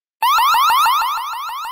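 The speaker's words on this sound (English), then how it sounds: "Or let the 105 decibel siren do the talking." Wyze Cam Floodlight 105-decibel siren blaring loud and close, a rapid repeating upward-sweeping electronic wail that starts abruptly and continues steadily without pause.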